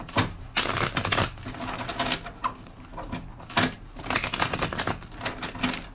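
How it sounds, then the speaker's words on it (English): Tarot cards being shuffled by hand, coming in loud, dense riffling bursts separated by short pauses, close up with no talking. "Two more shuffles."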